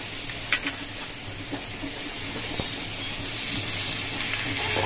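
Potatoes, onion and eggplant stir-fry with spices in a pan, giving a soft continuous sizzle with a few light stirring scrapes and taps, fairly quiet and without talk.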